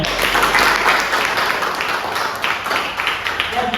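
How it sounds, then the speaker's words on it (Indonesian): Classroom applause from a group of students, a dense steady patter of clapping lasting a few seconds with some faint voices mixed in. "tepuk tangan semuanya"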